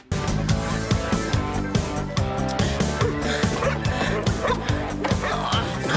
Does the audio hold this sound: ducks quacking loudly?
no